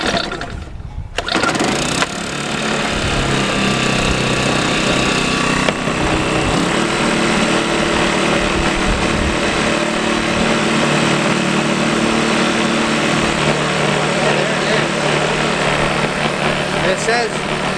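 A Sportsman 1000-watt portable generator, choke on, is pull-started and then runs at a steady loud drone, its small engine humming continuously while a person talks over it.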